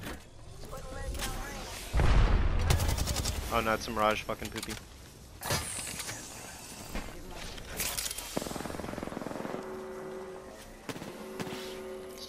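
Gunfire in the shooter game Apex Legends, bursts of shots and booms crackling beneath excited players talking and swearing over voice chat, loud at first and then lighter, scattered shots.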